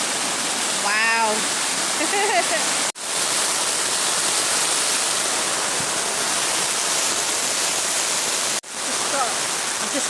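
Heavy, stormy rain pours onto a tent at a caravan park as a dense, loud, continuous hiss with no breaks, while a person briefly talks under the downpour.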